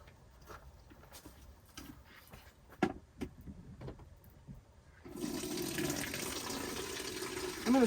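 Clear tap water running to rinse a load of laundry, starting as a few faint drips and clunks and then gushing in steadily loud and continuous until the end.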